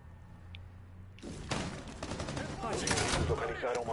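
Burst of Rainbow Six Siege gunfire that breaks in after a quiet second, rapid cracking shots piling into a dense, loud stretch of fire, with game voices mixed in.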